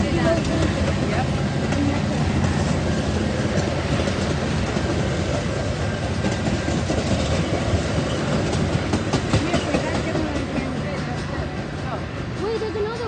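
A Metra commuter train rolls past Edgebrook station with a loud, continuous rumble and rattle of railcars close by, holding steady for over ten seconds as voices talk faintly underneath.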